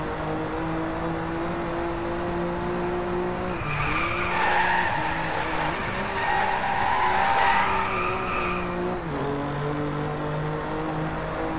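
Tires of a BMW M4 squeal in a long, continuous screech while drifting in the racing game Driveclub, over a steady engine drone that rises and settles, loud and close with no talking.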